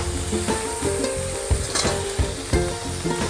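Masala with coriander powder and a little turmeric sizzles and fries in a pan for butter paneer, steady crackle broken by several clinking stirs of a spoon against the pan.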